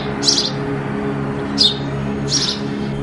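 A house sparrow gives three short, bright chirps spaced about a second apart, close and clear over a faint steady hum.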